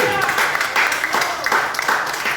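A church congregation breaks into strong applause during a worship service, dense clapping that carries on steadily, close and loud, with a voice speaking over it.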